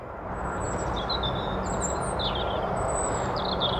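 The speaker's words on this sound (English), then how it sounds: "you might be able to hear the robin" A robin sings thin, high, warbling phrases in a garden, faint over a steady broadband background hiss, with no talking.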